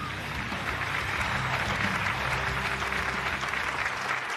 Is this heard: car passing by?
no